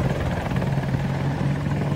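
An attack helicopter in Battlefield 2042 gives a loud, close, continuous rotor thrum with a steady low drone and rapid blade chop, with no voices over it.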